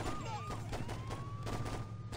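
Rapid gunfire in the Saints Row video game crackles in a dense burst over a low engine drone, with game sound effects layered in and no talk.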